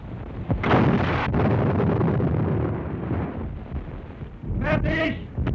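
A German Panzer tank gun fires a high-explosive shell, a sharp heavy boom followed by a second blast and a long rumbling roar, ending with a burst of shouted voices.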